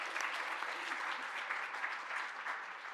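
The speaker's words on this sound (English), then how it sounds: "one more round of applause for our panelists" Sustained audience applause for a panel at a climate and environment event, dense, even clapping from a fairly large crowd throughout.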